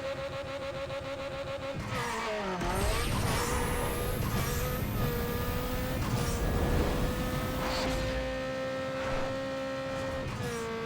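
Nissan Skyline 2.6L inline-six floored off the line in a Need For Speed Underground 2 drag race, engine revving hard and climbing through gears with loud, steady roar and brief tire chirp, no talk.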